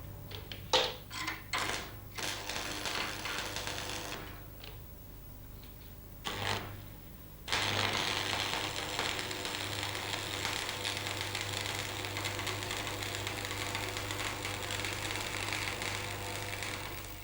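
Arc welding on a steel V groove joint, a steady crackling sizzle of the electric arc that starts and stops a few times early on, then runs continuously at moderate level with no talking.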